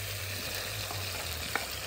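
Chiles sizzle and fry in a hot pot with cilantro, a steady close crackle with one small clink near the end.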